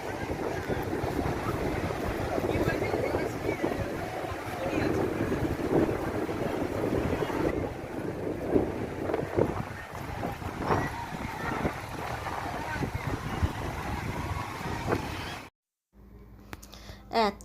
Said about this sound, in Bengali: বাতাস মানে ফোনটা স্টিলভাবে দাঁড়াতেই পারছি না নিজেও যেন নড়ে যাচ্ছে এত বাতাস